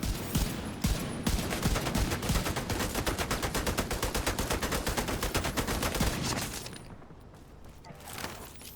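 Shock rounds fire in a video game as a rapid, loud, evenly spaced burst of automatic shots lasting about six seconds, then trail off into quieter ambience with a short final shot.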